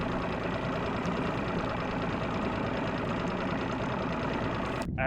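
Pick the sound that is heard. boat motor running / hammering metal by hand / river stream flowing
boat motor running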